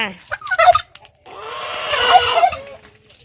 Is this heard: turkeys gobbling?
yes